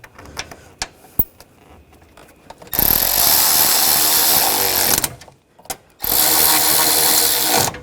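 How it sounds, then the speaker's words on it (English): A ratchet tightens intake runner bolts on a 2002–2006 Honda CR-V 2.4L four-cylinder: two loud, sustained buzzing bursts of a few seconds each with a short gap between, after some quiet clicks and taps. "Take these two bolts, get these lined up, and tighten these down."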